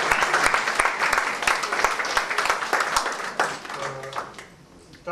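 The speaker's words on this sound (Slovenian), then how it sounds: "En aplavz." Audience applause at a gathering in a retirement home in Beltinci: dense, lively clapping from a crowd that thins out and fades toward the end, with a brief faint voice or tone near the close.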